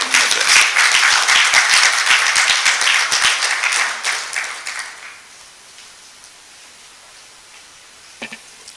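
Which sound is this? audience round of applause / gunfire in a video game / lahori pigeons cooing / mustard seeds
audience round of applause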